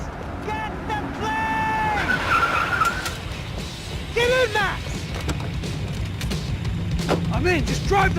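Car tires skidding and squealing during a chase in the video game Max Payne 3, sharp screeches repeating over loud engine noise and gunfire-like bangs, with voices shouting over the action.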